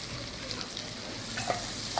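Onions sautéing with salt in a pan, a steady close sizzle with faint stirring scrapes throughout, growing slightly louder toward the end, with no voices.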